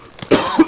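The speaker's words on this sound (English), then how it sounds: "I'm already fucking coughing" A man gives a single loud, close, rough cough, a short burst with a brief throaty catch at its end.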